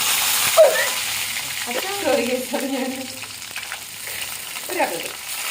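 Cumin and curry leaves frying in a pan for a Tamil Nadu style fish curry, a loud hissing sizzle with stirring scrapes, while a voice makes brief sounds in the middle.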